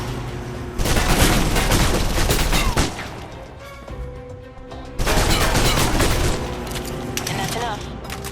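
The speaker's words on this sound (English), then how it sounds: "Now for your submachine guns." Submachine gun fire in the video game Alpha Protocol: two dense bursts of rapid automatic shots, loud and close, separated by a short lull with lingering mechanical clatter.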